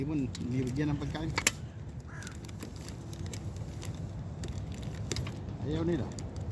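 Crows cawing in short harsh calls, a few scattered bursts near the start and again near the end, over steady outdoor background noise while birds are being fed, with people talking.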